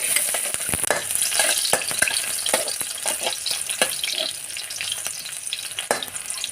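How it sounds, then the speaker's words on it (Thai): Chopped garlic stir-frying in a little oil for a mixed vegetable stir-fry, loud close sizzling with rapid, irregular spatula clacks and scrapes throughout, no voices. "ผัดให้กระเทียมหอมสักนิดนึงค่ะ"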